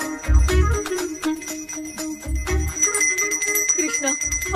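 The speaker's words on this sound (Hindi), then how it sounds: "मुझे जल्दी आओ बोल के यहाँ पर घंटी बजा रहे हो।" A bell rings repeatedly by itself inside a spooky bungalow in a comedy film, bright metallic strikes recurring rapidly over low thumping, with no voices.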